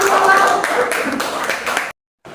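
Classroom clapping after a student group presentation, a brisk burst of many hands close by with voices mixed in, ending abruptly in silence before a brief faint resumption.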